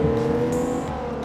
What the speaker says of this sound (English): The only real noticeable difference is the throttle busts wide open, and that engine note becomes much more pronounced.